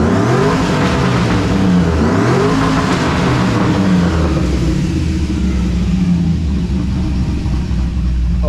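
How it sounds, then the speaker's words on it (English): A car engine being prepped for a burnout contest revs up in rising and falling sweeps, loud and close, then settles into a heavy idle rumble, no talking. "We're gonna hit the rev and see what it does real quick."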